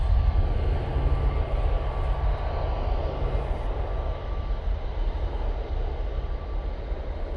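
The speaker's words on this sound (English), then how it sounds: "Swiss A380 CEO now returning back to Zurich." A Swiss Airbus A380 airliner at Manchester Airport roars as a steady, loud, broad jet engine rumble with a faint high whine, continuous throughout with no talking.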